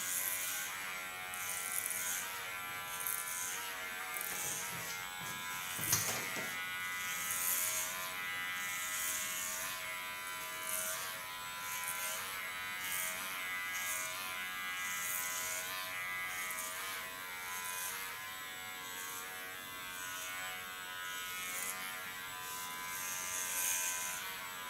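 A Kione electric hair clipper cuts short hair with a continuous, fairly quiet motor buzz. Faint snips of texture recur as it moves through the hair, and no one speaks.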